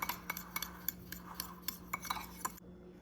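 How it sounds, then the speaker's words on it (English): A fork clinks and scrapes against a bowl while mixing melted butter with cinnamon sugar for monkey bread, a quick irregular series of light metallic taps and stirring scrapes, close and fairly quiet, ending abruptly. "Now I'm just going to combine these 2 with a fork to make like a cinnamon sugar."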